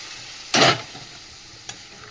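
Dal poured into a pan of fried spice tempering gives one sharp, loud burst of sizzling that fades within about a quarter second, followed by a faint low bubbling and a small clink.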